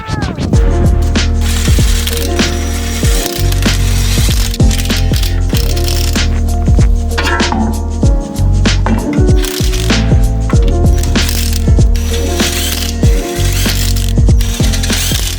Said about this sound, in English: I'm gonna go ahead and put these wheels back on